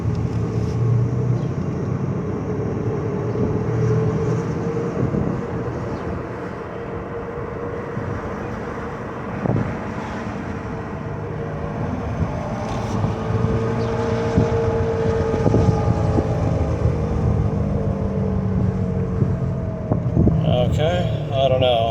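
Dodge Caravan driving at around 30 miles an hour with a rhythmic helicopter-like vibration, a continuous low rumbling drone with road and wind noise throughout, and a voice talking over it.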